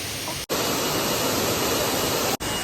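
Waterfall in the Naga hills, a steady, dense, loud rush of falling water filling the scene, broken by two brief dropouts, with no talk.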